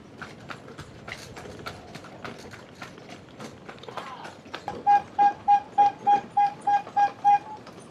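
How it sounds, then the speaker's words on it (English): Rhythmic clip-clop of horse hooves with creaking cart wheels from a horse-drawn taxi cart on the Gili Islands, followed by a regular series of loud, evenly spaced tones over the trotting. "these horse carts are like taxis here"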